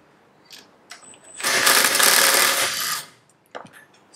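An impact wrench with a 17mm socket spins off the rotor nut on a go-kart engine crankshaft, giving one loud rattling burst of about a second and a half, set between a few small metallic clicks.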